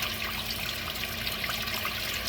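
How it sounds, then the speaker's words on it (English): A kayak livewell aerator runs in water, giving a steady, close bubbling and gurgling wash with a faint constant hum beneath it. "we have the aerator running."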